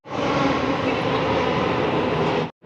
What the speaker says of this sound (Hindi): So finally मेरी मेट्रो आ गई।